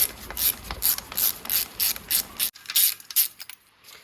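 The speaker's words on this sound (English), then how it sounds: "we're just going to remove these spark plugs now, stick them up the top" Ratchet wrench clicking as it undoes spark plugs on a Citroen C1, a rapid series of close, crisp metallic pawl clicks in short bursts, briefly pausing before a few more strokes.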